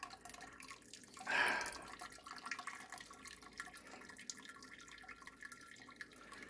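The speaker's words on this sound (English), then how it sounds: "we're told to just lift the bag out and let it drain" A grain bag of crushed malt is lifted from home-brewed beer wort and left to drain, giving a short splashing gush and then faint, quiet dripping and trickling.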